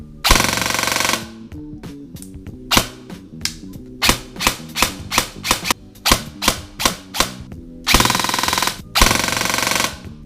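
Ares Amoeba AM013 airsoft gun with a new motor fires repeatedly, mixing long rapid full-auto bursts with quick single and double shots, all loud and close with no talking.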